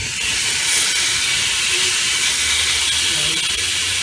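Salmon fillet sizzling as it goes into hot oil in a pan, a steady loud hissing fry that holds evenly throughout, with a voice talking briefly over it.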